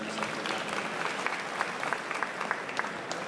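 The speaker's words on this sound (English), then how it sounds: "Let's give a round of applause to Ma'am Marisa Fernand." An audience at a city's State of the City address claps for an honoured guest, a steady, even round of applause with individual sharp claps standing out, moderately distant throughout.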